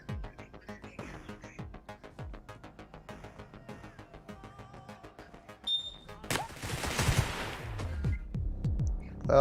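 A turret in Receiver 2 fires a rapid string of faint, fast gunshots, followed by a louder, noisy burst of impact and crackle near the end. A voice speaks briefly near the end.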